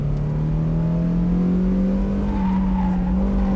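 A car is pushed hard around Japan's Honjo Circuit, its engine droning loud and steady as the pitch climbs slowly under sustained throttle, with a faint tire squeal over the roar and no talk.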